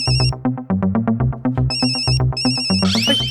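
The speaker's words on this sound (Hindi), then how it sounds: "जेठा भाई का फोन है" A phone ringtone plays loudly and close in a TV comedy scene, a repeating electronic melody with bright chiming tones, ending in a shimmering flourish.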